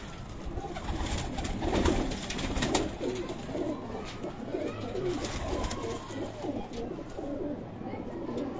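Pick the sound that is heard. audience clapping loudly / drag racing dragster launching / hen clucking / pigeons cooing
pigeons cooing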